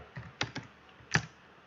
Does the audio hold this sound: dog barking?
no